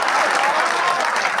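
A crowd claps in a dense burst of applause, steady and loud throughout the brief moment.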